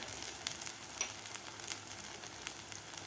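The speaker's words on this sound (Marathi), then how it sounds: "दोन ते तीन मिनिट आपल्याला हा मसाला परतून घ्यायचा आहे" A spice masala paste fries and crackles in a pan for a restaurant-style veg Kolhapuri, a steady close sizzle dotted with sharp pops and spits.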